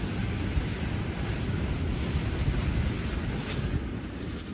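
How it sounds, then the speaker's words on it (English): Huge waves crash on a shoreline, a loud, continuous roaring surf heavily buffeted by wind noise, with no distinct individual breaks. "Huge waves crash on a shoreline with people watching from above."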